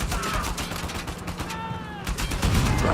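Rapid bursts of gunfire in the video game Uncharted 4 during a motorcycle chase, loud overlapping shots and whizzing sounds over engine noise, with someone talking briefly underneath.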